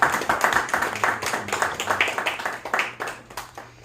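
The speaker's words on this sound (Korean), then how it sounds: "우리 감사의 수고했다고 격려의 박수를" A church congregation claps for Taeyong and Jihye, a moderate, scattered round of hand claps that thins and fades out over a few seconds.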